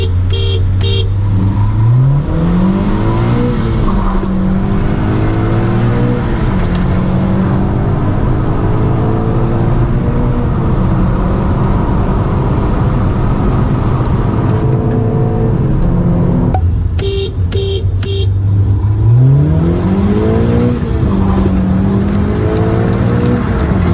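Two Honda Civic Si cars, a 9th-gen with a K24Z7 and a 10th-gen with an L15B7, accelerate hard from a rolling start, engines climbing loudly through the gears with shift breaks and rising revs, close and continuous.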